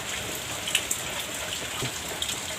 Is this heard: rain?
yes